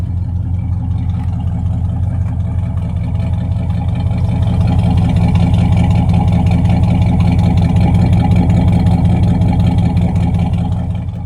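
A 1969 Pontiac Grand Prix V8, likely the 400 with dual exhaust, rumbles steadily at idle, a deep continuous throb held close and loud throughout with no talk.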